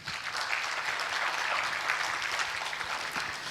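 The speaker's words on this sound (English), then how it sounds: "Let's clap for ourselves." A crowd at a law school alumni homecoming and fifteenth anniversary gathering claps steadily, even sustained applause filling the room throughout with no talk over it.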